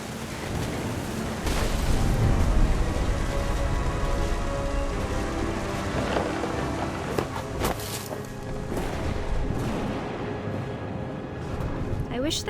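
Stormy sea in the game What Remains of Edith Finch, with wind, surf and steady rain hissing continuously at close range, forming a dense, loud roar throughout with brief louder bursts.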